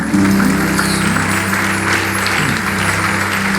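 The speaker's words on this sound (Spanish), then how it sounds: "Dale un aplauso al Señor" Congregation applauding in a church service after a prayer, a dense steady wash of clapping filling the room for several seconds, with a sustained organ or keyboard chord held underneath.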